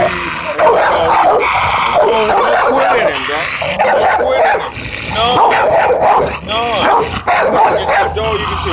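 Dogs fighting up close, with loud continuous snarling, growling, barking and yelps over nearly nine seconds, while people talk over the commotion.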